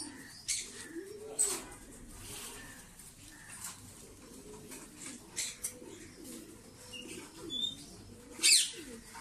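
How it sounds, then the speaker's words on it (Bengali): Pigeons kept in a well-built cage give soft, rolling coos, repeated at an uneven pace, with a few brief chirps and a quick flutter of wings near the end, all heard fairly close. "দর্শক দেখতে পাচ্ছেন কবুতরগুলো"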